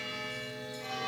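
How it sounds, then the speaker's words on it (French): A church bell, the Saint-Venant bell cast in 1466, rings with a steady, resonant tone whose overtones hum continuously and grow slightly louder toward the end, with no voices present. "Alors écoutez, elle m'interrompt. C'est la cloche Saint-Venant. Elle est de 1466."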